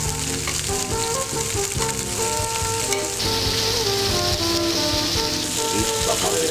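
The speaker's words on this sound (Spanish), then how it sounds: "Con esto yo voy a dorar primero los langostinos." Fresh langoustines sizzle in olive oil with coarse salt, a loud steady frying crackle close by, with a voice talking over it.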